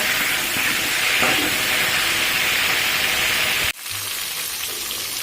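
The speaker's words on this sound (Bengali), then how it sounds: "এবার এখানে দিয়ে দেব কুমড়ো আর চিন দিয়ে আরেকটু ভালোভাবে ভেজে নেব" Cauliflower, potato and pumpkin fry in a hot pan with a loud, steady hissing sizzle that cuts off abruptly partway through, leaving a quieter sizzle afterward.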